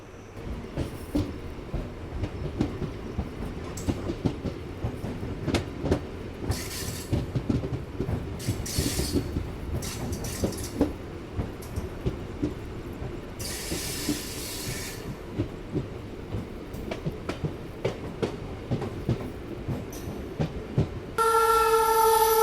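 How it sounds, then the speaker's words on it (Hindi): A passenger train runs into Bhairavgarh station between Ratlam and Bamnia, heard from on board: continuous rumbling with wheel clatter, brief hissing bursts, and a loud tonal horn-like blast at the very end. "फिलहाल अपनी ट्रेन भैरवगढ़ स्टेशन पे आके खड़ी हो चुकी है"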